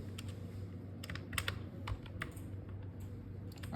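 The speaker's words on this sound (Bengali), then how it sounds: "যেমন আমরা কন্ট্রোল লিখি, সিটিআরএল লিখি" Quiet typing on a computer keyboard, irregular bursts of soft key clicks over a low steady hum, close and with no voices.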